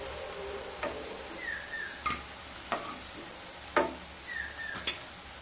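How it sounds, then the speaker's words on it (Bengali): Potato slices fry in hot oil until light brown, giving a steady close sizzle with occasional sharp ticks and clicks from a utensil stirring or turning them in the pan. No one speaks. "এইভাবে দুটো সাইড হালকা ব্রাউন কালার করে ভেজে নিয়ে তারপর ফিরে আসছি।"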